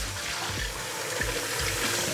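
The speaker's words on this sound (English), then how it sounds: "First to kind of rinse them off, wash them off a bit. Drain that water off." Rinse water pours steadily out of a pot of potatoes into a sink, a continuous loud gushing splash with low thuds of shifting potatoes, close and alone without talk.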